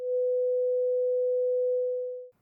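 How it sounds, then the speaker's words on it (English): A pure sine wave tone with no overtones holds perfectly steady and loud for over two seconds, then cuts off abruptly. "a pure sine wave contains no overtones whatsoever"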